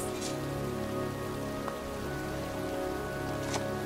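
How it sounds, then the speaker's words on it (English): Steady rain patters on surfaces throughout, a dense constant hiss with a few louder drops, no voices. "It's cold. It's raining."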